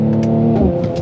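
Mercedes-AMG C43 engine revving hard under throttle, a loud, steady close-up drone with rising pitch through the burst.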